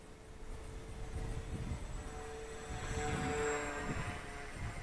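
A small electric RC model plane, a Fun Cub with 1100mm wingspan, drones steadily at a distance, its buzzing propeller tone rising and falling faintly as it passes overhead.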